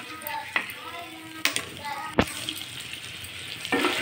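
Salt and chili powder frying in hot oil in a pan for an egg masala curry, a steady close sizzle punctuated by a few sharp stirring clacks, with faint voice harmonics drifting in.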